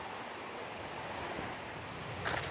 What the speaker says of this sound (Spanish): aquí estoy pasando un pequeño riachuelo donde, por ejemplo, se nota que el agua está completamente marrona, completamente revuelta